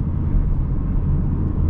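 Four-cylinder engine of a 2021 Honda Civic droning in a low steady rumble from inside the car, loud and continuous with no talking.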